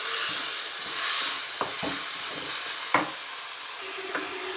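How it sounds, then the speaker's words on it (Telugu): Tomatoes and vegetables fry in a pan on the stove, a continuous sizzle under a few scraping stirs of a spoon, with no talk. "ఇవన్నీ బాగా ఫ్రై అవ్వనిద్దామండి"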